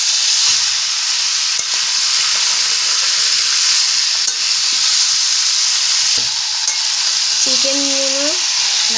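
Chicken being stirred and fried with spices for chicken soup, a steady loud sizzle and hiss running throughout with no talk, and a brief tonal squeak near the end.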